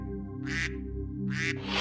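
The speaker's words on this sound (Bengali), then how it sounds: "রাজহাঁস এখন চিৎকার করছে" Two loud nasal honking calls from a pet swan, each about a quarter second, over a steady harmonic drone, with a third call starting at the end.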